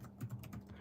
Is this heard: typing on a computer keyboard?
yes